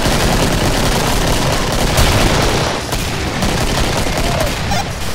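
Continuous heavy gunfire from the zombie shooter game Killing Floor, a dense, loud barrage of rapid shots and bursts with booming hits, steady throughout without a pause.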